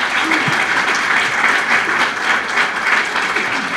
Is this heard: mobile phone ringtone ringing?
no